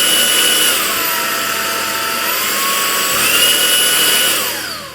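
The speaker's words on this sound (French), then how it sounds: "Moi qui suis fan de passer l'aspirateur, et ben franchement j'adore." A vacuum cleaner with several power settings runs close by, its motor whine dropping to a lower pitch, holding, then climbing back up before fading slightly at the end, with no talk.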